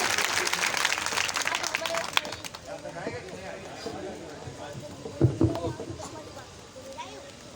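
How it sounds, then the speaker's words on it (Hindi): Crowd clapping at a Ramlila committee event, a burst of applause that fades after a couple of seconds into scattered claps, murmuring and voices, with a brief louder thump near the end. "सभी लोग तालियां बजाएंगे।"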